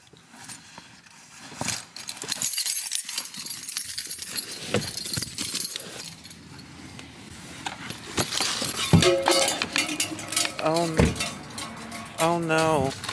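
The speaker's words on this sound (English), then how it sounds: "I need my keys." A bunch of keys jangles and clinks near the microphone in repeated bursts, with some scraping handling noise and a few sharper metallic rattles toward the end.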